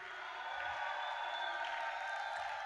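A church congregation at a seminar raises a steady, roaring wall of cheers, shouts and applause in praise of the Lord, sustained and fairly distant throughout.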